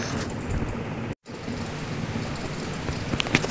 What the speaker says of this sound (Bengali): রাতের মধ্যে বৃষ্টি